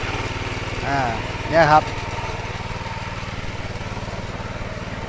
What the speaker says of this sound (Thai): ทำงานรถตีดินช้างน้อยครับ ใน สวนกล้วยหอมทอง